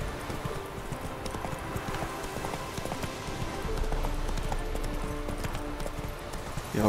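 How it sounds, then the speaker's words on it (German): Steady hoofbeats of a horse clopping along in a quick rhythm in the video game The Witcher 3, continuous and fairly close, with a low background rumble. "Gib deinem Pferd die Sporen."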